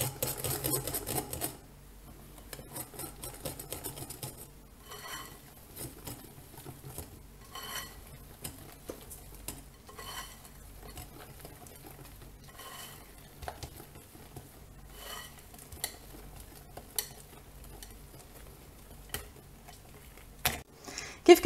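Semolina basbousa batter is mixed by hand with a whisk, giving steady scraping and light clinking taps against a bowl, close and fairly quiet, continuing in irregular bursts with no talk.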